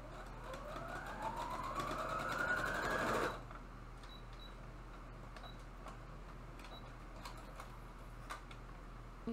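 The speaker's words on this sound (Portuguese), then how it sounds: "Vou costurar os braços já." Sewing machine stitching the arms of a fabric angel ornament, a close, loud whirring run with rising motor pitch for about three seconds, then stopping, leaving faint ticks and light handling sounds.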